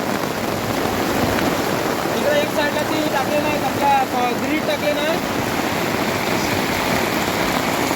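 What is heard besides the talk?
heavy rain falling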